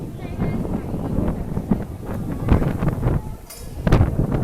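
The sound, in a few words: strong wind blowing at EPCOT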